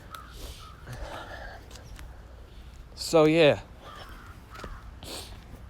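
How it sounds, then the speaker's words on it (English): A crow gives one loud, close caw partway through, set against quiet background noise while a person talks softly before and after it. "Goddamn crows."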